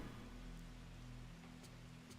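Faint, steady hiss of rain falling in the horror game Fatal Frame 3, a soft continuous wash under a low hum, with no voices.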